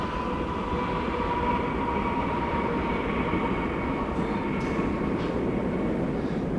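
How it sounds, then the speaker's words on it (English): Steady, loud rumble of a train locomotive nearby, a continuous drone with a sustained tonal hum and no talk over it. "Oh, I want to get a picture with the train, the locomotive."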